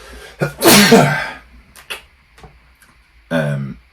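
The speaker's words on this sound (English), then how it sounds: "I was going to sneeze" A single sharp sneeze bursts out early, followed by a few soft clicks and a brief vocal sound near the end.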